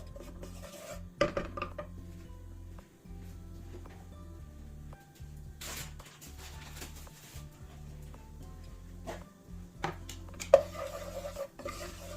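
A spoon stirs flour toasting in a pot for chicken broth vermicelli soup, with soft scraping and occasional metallic clinks against the pan over a low steady stove hum, close and quiet.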